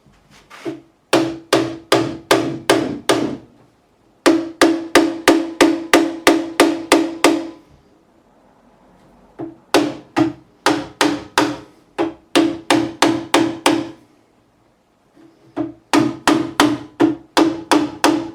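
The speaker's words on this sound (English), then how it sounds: "I'll just get an hammer on these." Rapid bursts of sharp metallic hammer taps seating tight bushings on a 1964 Rickenbacker 330 guitar, about six to eight blows per burst with short pauses between, close and loud.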